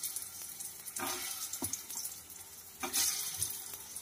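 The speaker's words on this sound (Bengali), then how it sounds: "তেলটা গরম হয়ে গেছে, দিয়ে দিচ্ছি টিক্কাগুলো।" Chicken tikka pieces laid into a shallow layer of hot mustard oil, giving a steady close sizzle with brief louder crackling bursts as each piece lands, with no talking.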